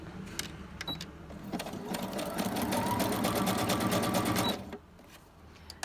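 A sewing machine runs steadily for about four seconds, stitching zigzag across fabric with a fast, even mechanical chatter, close and loud, then stops with a few light clicks.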